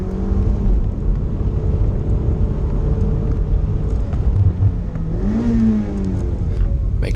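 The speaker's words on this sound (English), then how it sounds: "Make sure I revved the car extra here because I crunched yesterday quite a few times" A Mazda MX5 engine revs hard at Wiscombe Park hillclimb, a steady loud drone from the cabin with rising and falling pitch as the car climbs, ending in a sharper rev near the end.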